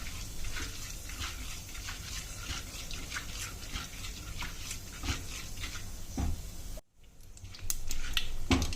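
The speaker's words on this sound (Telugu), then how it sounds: "గోల్డెన్ బ్రౌన్లో వేపుకోవాలండి" Chana dal and mustard seeds frying in hot oil over a medium flame, a steady dense sizzle with scattered crackles and pops, briefly cut off near the end before resuming just as loud.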